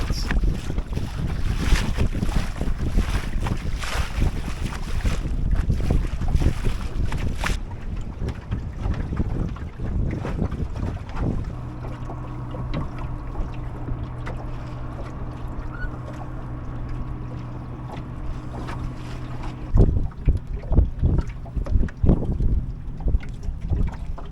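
Steady wind rushes past while water washes against a sailboat's hull as it sails upwind, with gusty buffeting on the microphone throughout.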